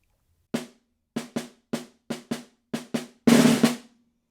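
Snare drum playing a single measure with buzz rolls: scattered sharp strokes at varied spacing, then a louder sustained buzz roll near the end, close and alone.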